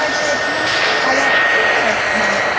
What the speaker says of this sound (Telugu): ఫైనల్లీ హెలికాప్టర్ ఎస్కేప్ చేసేస్తున్నాం గైస్